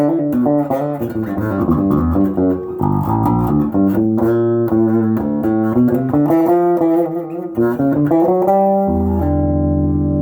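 1980s G&L El Toro electric guitar with maple neck on rosewood, both pickups engaged, plays a steady melodic passage of single notes and chords, ending on a sustained low chord.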